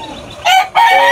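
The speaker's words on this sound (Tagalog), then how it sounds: "Sa itsura, ito ay isang white kelso, no?" A white Kelso gamefowl stag with a straight comb and yellow legs crows loudly and close by, two strong bursts with a brief break between them.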